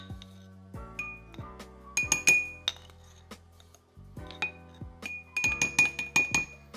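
A spoon clinking against a glass jar while turmeric is measured in, several bright, close ringing taps and chinks in uneven bursts, with some musical tones sounding underneath.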